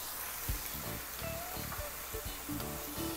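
Boiled potatoes dropped into masala frying over a high flame, giving steady sizzling with a few soft thuds and stirring scrapes, close and moderately loud, no talk.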